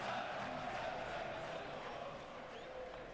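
Crowd noise at a football stadium on match day evening, a steady murmur and roar of many voices filling the air without distinct cheers or chants.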